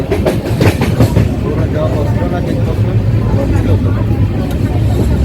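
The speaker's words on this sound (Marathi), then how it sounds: "आता थोडी ट्रेन खाली जाते" A passenger train on the route to Mumbai rumbles along the rails with a steady low roar and faint rhythmic clatter, loud and continuous throughout.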